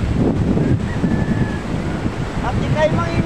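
Loud wind roars across the microphone over steady crashing surf at sea during a signal no. 1 typhoon in Baguio, with faint whistling tones rising briefly in the background.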